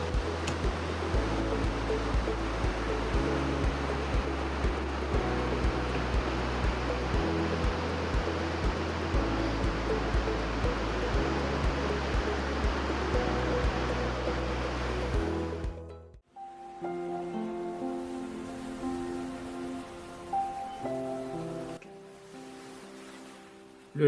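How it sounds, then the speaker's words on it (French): Abisko waterfall in Abisko National Park, Swedish Lapland, roaring as a dense, steady rush of water that drops away sharply near the end, leaving a quieter wash. "La cascade d'Abisko, située dans le parc national d'Abisko en Laponie suédoise."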